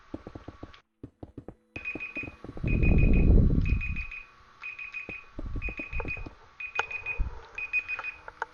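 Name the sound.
timer going off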